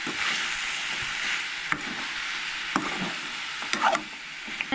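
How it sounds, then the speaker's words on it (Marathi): Goan jackfruit bhaji with salt added is stirred and mixed in a pan, with a soft continuous sizzle and a few scattered scrapes and knocks of the spoon close by. "तेज्या मागीर हे सगळ्यांना मिक्स करून घेया, म्हणजे मीठ बरें लागतलें भाजयेक आमच्या"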